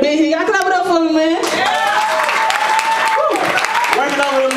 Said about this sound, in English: Y'all clap it up for me, man.